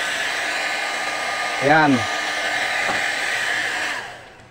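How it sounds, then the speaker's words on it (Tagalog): A hot air hair dryer blows steadily on the vertical yoke of a Sharp 14-inch CRT TV, a loud continuous whooshing hiss; a voice speaks briefly partway through before the blower winds down at the end. "gamit ang ating hot air or hair dryer"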